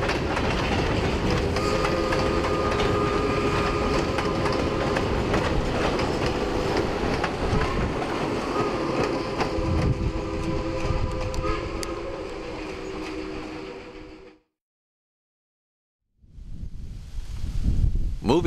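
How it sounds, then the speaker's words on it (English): Steam locomotive number 40 on the New Hope and Ivyland Railroad in eastern Pennsylvania rumbles past loudly with rhythmic clanking and clickety-clack of wheels, continuing for about fourteen seconds before a sudden silence and then resuming. "ride behind number 40 on the New Hope in Ivyland"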